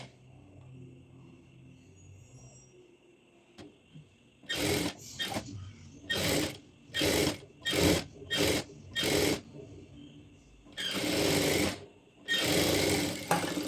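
A sewing machine top stitches the edge of a lining in a run of short bursts, about eight quick stitching spurts with pauses between them and then a longer run, close and clear.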